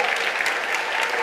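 Brief burst of audience applause for a band at a church service, dense steady clapping from a crowd without pause.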